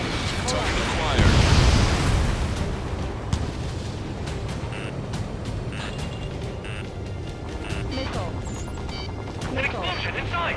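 Explosions and gunfire in the combat flight game Ace Combat 7 form a dense, continuous roar with a heavy blast early on and scattered sharp cracks throughout, under radio-style voices talking.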